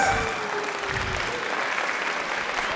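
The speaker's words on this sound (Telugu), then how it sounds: "వీళ్ళ- క్లాప్స్." An audience applauds after a dance performance at an Ugadi cultural celebration, a steady burst of many hands clapping close and loud for a few seconds.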